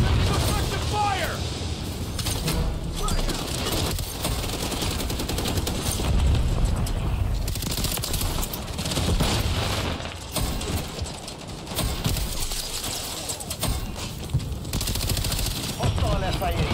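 Dense, rapid gunfire and explosions from Call of Duty MW3 pound almost continuously, close and loud, with radio-style callouts from voices layered over the shooting.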